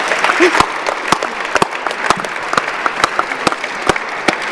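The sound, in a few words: audience applause for young people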